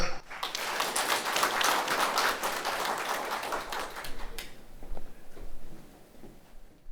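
Audience applause at an award ceremony, a loud sustained burst of many hands clapping that fills the room, then thins out and fades to a few scattered claps and quiet.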